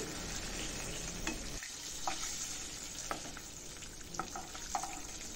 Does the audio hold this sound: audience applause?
no